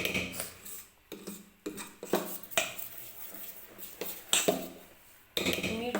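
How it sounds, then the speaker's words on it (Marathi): A spoon scrapes and knocks against a pot while dosa batter is stirred, giving irregular clinks and rubbing strokes with short pauses between them. "मिक्स करून पण घेते आता पीठ."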